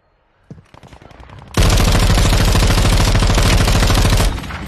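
Call of Duty Warzone 2.0 gunfire: a few scattered shots give way to a loud, sustained automatic burst lasting nearly three seconds before cutting off abruptly, close and alone.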